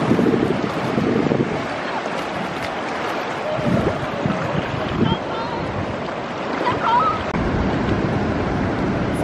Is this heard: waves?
yes